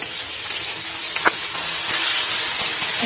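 Tomatoes dropped into hot, lightly browned onion paste in a pan for a Bengali chicken roast or beef rezala, a steady steamy hiss with a brief sharper sizzle burst, close and moderately loud with no talk.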